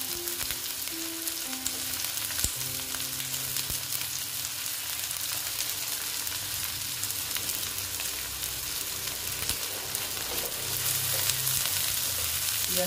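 Onion and green chili fry in a pan, giving a dense, continuous hiss and crackle at close range with no pauses or talk.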